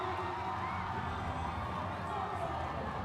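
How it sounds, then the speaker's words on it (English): A basketball crowd at an ASEAN Basketball League game between Saigon Heat and Westports Malaysia Dragons keeps up a steady, dense roar of cheering and shouting throughout, with a commentator's voice faintly mixed in. "And the crowd goes nuts."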